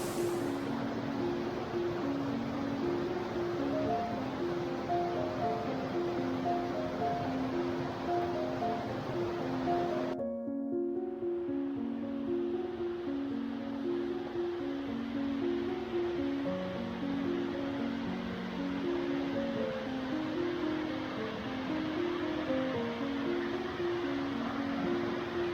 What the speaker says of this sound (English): And there it is, our little waterfall.